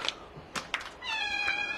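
Cats meowing at feeding time, a few soft, short sounds followed by a drawn-out, tonal meow, close and fairly quiet with no talk.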